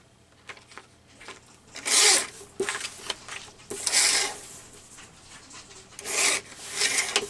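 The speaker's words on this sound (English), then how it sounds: "Oh, I'm going to have to use this trimmer because the ones are long." A paper trimmer slices through long craft paper strips in three or four bright, rasping cuts separated by softer sliding and handling scrapes, close and without speech.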